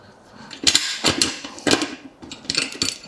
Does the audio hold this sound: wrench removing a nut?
yes